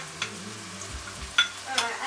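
Ginger is added to onions frying in a pan and stirred, giving a soft steady sizzle broken by scraping spatula strokes and small clatters.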